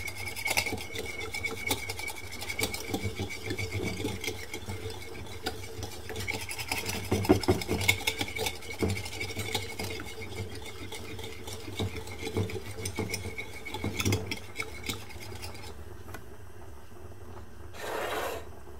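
Egg yolks and pepper being whisked in a salad bowl, giving a continuous, close scraping and rubbing with a few louder knocks against the bowl, then fading near the end.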